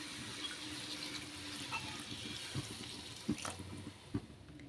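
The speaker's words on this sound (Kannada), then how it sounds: "ಸ್ವಲ್ಪ ನೀರು ಹಾಕ್ಕೋತೀನಿ." Water trickling and pouring into a pan of tomato mixture for noodles, a quiet steady flow with a couple of soft knocks near the end, fairly faint overall.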